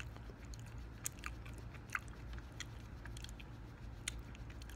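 Quiet close-up chewing and biting of a hamburger and dessert pastries during a mukbang meal, with soft crunches and wet mouth sounds scattered irregularly over a low background hum, with no talking.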